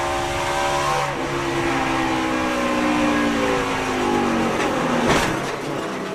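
A stock race car at a 2010 Prairie Meadows 200 race heads into a turn, its engine droning loud and steady from on board, then a brief sharp burst near the end.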